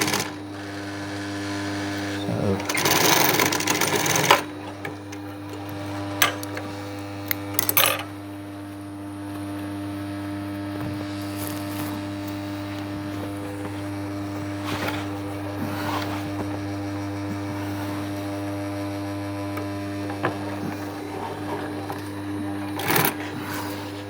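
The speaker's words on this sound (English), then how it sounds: "Start and stop our stitching by back stitching the sewing machine to lock it off" A sewing machine stitches a zip onto a sofa cushion, running in steady humming bursts with brief stops and restarts, close and clear, with a few light clicks and handling noises between runs.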